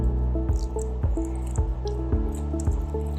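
Clean filtered water drips slowly from a DIY bucket pre-filter with a small pressure head, a steady run of distinct plinking drops landing every half second or so, close and clear over a low hum.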